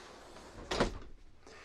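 The bedroom door of a 2023 Heartland Sundance Snake River 242 RK travel trailer shuts with a single soft thump and latch click, followed by a faint rattle, in a quiet interior.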